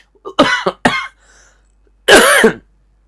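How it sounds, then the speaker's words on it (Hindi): A person coughs twice in quick succession, then once more after a short pause, close and loud. "थोड़ा सा खांसी आ रही"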